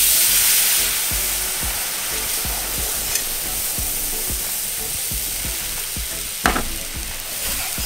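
Hot milk being stirred into browned flour in a hot pan for a sauce, a loud steady sizzle with quick repeated whisking strokes, close up, plus a couple of sharp knocks against the pan.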